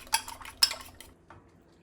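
Cutlery clinks against dishes in two or three bright, close clatters while breakfast is being prepared, followed by a faint softer clink.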